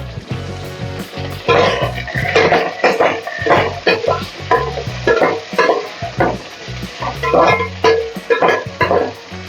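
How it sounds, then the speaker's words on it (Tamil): Vegetables and brinjal sauté in a pan, sizzling and frying continuously while being stirred, with irregular scraping bursts rising over a steady hiss at close range. "ஒரு 5 நிமிஷம் வதங்கினா போதும் காய்கறி."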